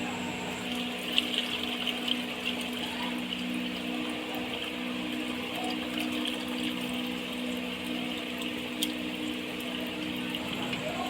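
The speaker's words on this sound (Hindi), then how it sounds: "अब इसमें से यखनी निकाल लेंगे अलग।" Mutton broth pours steadily out of a pressure cooker with a continuous watery rush, close by, accompanied by a faint background hum and occasional small clinks.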